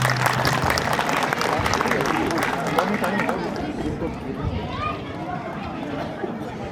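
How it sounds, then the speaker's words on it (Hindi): An audience at a school annual day at GSSS Balera applauds a children's performance with dense, sustained clapping that gradually fades, mixed with crowd chatter and voices throughout. "इस बेहतरीन प्रस्तुति के लिए इन बच्चों के लिए जोरदार ताली"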